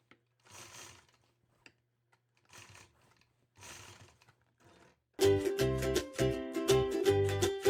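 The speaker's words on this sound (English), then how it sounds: "I'll continue stitching those straight lines across that side and top of the block" A sewing machine quilting straight lines across a fabric block runs in short, quiet bursts, then breaks into a loud, steady, rapid stitching whir that continues to the end.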